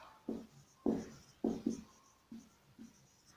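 Pen strokes on paper during a maths lesson: six short scratchy bursts in an uneven rhythm, close and quiet, with no talking.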